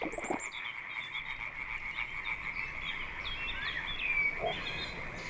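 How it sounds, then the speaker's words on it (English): A tree frog mating chorus in a flooded delta forest in the Netherlands at night, a dense, continuous high-pitched croaking that fills the clip steadily throughout, close and fairly loud, with no talking. "The tree frog's mating call drowns out all other nocturnal sounds."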